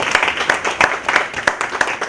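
A workshop audience on ethics in teaching claps for the session's speakers, a steady patter of hand claps with sharper individual claps standing out at a fairly regular pace, close and moderately loud, with no voices.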